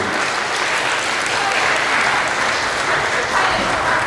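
Wedding guests at a ceremony hall in Suwon give steady, dense applause that fills the room evenly from start to finish, loud and sustained with no clear pauses.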